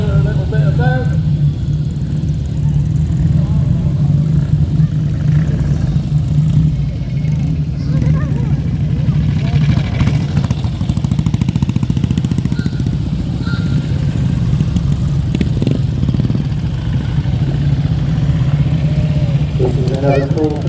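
Vintage tractors on a parade lap at a rally, a loud continuous low engine rumble throughout with a public-address voice talking over it outdoors.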